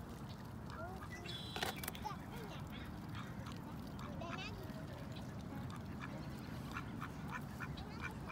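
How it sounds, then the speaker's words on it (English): Ducks quack in a public park in Surrey, a few short nasal calls scattered over quiet outdoor background, with a person speaking faintly nearby. "I see why you're quacking."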